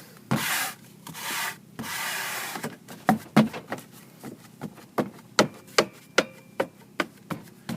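A squeegee is pressed and rubbed over Armaflex insulation on an air handler: two long smooth swipes, then a run of short, evenly spaced scuffing strokes, close and clear.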